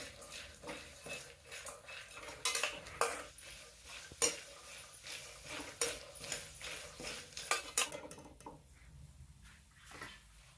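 Peanuts and roasted gram frying in a pan for a Davangere-style puffed rice snack, with irregular scraping, rattling and clinking of a utensil against the pan, fairly close and quiet, fading near the end.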